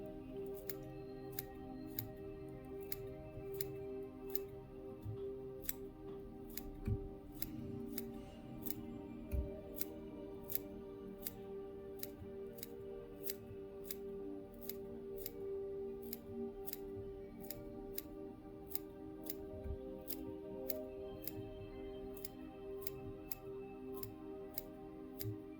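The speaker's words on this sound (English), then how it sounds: "trimming deer hair with your scissors" Small scissors trimming deer hair to shape a fly head, a steady series of crisp, quiet snips at an even pace, close up and alone in a hushed room.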